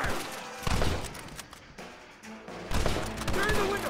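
Gunfire in Red Dead Redemption comes as bursts of shots and thuds in two clusters, mixed with game voices and background noise.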